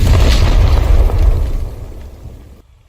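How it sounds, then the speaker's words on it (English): Explosion blowing up the south wall of a prison camp: one loud, close, deep boom that rolls and decays over about two and a half seconds before cutting off. "A loud explosion, smoke dissipated, and from the collapsed wall,"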